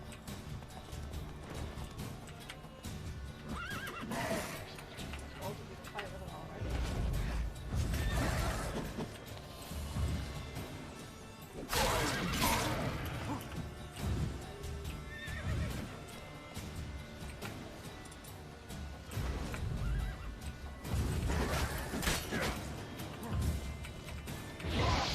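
Roach, a horse in The Witcher 3 video game, neighs and whinnies several times over the drumming clip-clop of galloping hooves, a busy, fairly loud stretch of game sound.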